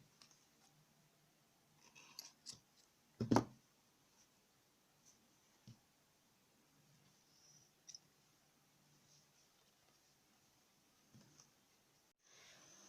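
Scissors cut crochet yarn in a quiet room, one distinct close snip followed by a few faint clicks and small handling sounds scattered over the clip.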